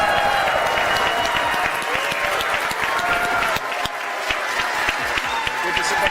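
Loud, dense audience applause and cheering fill a large keynote hall at the AMD New Horizon event, welcoming the CEO onto the stage, steady and sustained throughout with crowd noise mixed in.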